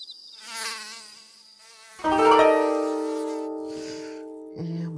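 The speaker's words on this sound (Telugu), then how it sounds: "ఈ దోమల గోల" Mosquitoes buzz outdoors close by, thin whining drones that rise and fall in a few separate passes with brief gaps between them.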